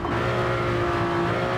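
A race car in Gran Turismo 7 powers hard out of a corner, its engine a loud, steady, harmonic roar held under full throttle for the whole short stretch, with no talking.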